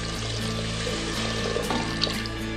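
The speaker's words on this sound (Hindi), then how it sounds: "अब इसमें हम पानी ऐड कर रहे हैं" Water poured into a pan of frying masala with ghee for Aloo Badiyan, giving a steady, close rush of running and sizzling water that continues through without a break, with faint clinks on top and no talking.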